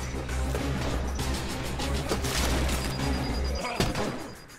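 Rapid bursts of gunfire from the zombie survival video game State of Decay, loud and dense, mixed with crashes and a booming impact, with a person talking over the action.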